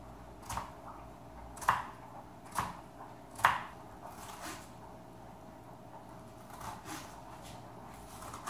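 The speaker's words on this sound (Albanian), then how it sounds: "Vazhdojmë grim qepën," Knife chopping onion finely on a board for a shrimp pasta sauce: a few sharp, separated chops early on, then softer, sparser cuts, close and quiet with no talking.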